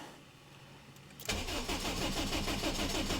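A Subaru STI tuned to around 800 horsepower starts from cold: after a quiet lead-in the engine catches abruptly and settles into a loud, close, steady rumbling idle.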